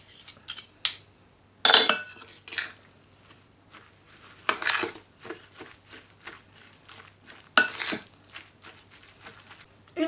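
Shredded cabbage salad being stirred with mayonnaise and sugar in a bowl, producing scraping clinks of a utensil against the bowl and wet rustling in uneven bursts, close and fairly quiet with no speech.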